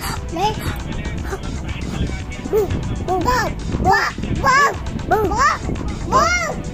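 A voice repeatedly mimics a dog's bark with short, rising yelps over steady background noise and talk.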